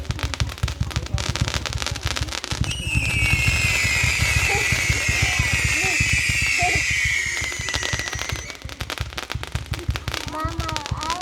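A 300-shot fireworks cake fires in a dense, rapid rattle of pops and crackles lasting several seconds, with whistling shots rising over it, during a backyard fireworks show, while family members chat nearby before and after.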